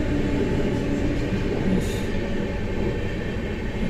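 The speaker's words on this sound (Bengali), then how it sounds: "এই ট্রেন দেখি এক্সপ্রেস না নর্মাল" An express train runs on a single-line track on the Kathgodam line, producing a close, steady, loud rumble of wheels and carriages that lasts throughout, with a brief high hiss partway through.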